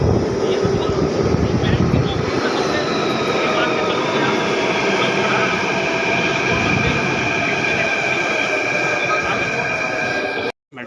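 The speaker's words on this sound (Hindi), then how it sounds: "मेट्रो आने वाली है अब इससे चलेंगे हम नेहरू प्लेस। मेट्रो में बैठ वो सामने मेट्रो आ गया।" A Delhi Metro train roars into a station, loud continuous rumble with a high whining tone from the wheels and motors, cutting off abruptly at the end.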